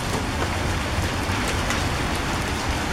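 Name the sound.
pea-size hail falling in a thunderstorm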